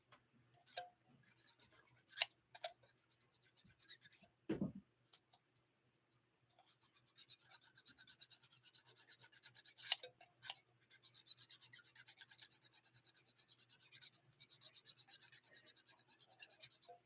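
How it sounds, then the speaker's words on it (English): Hand sanding, with faint close rhythmic scratchy rubbing strokes in long runs, broken by short pauses and one dull bump. "He just sanded the whole time."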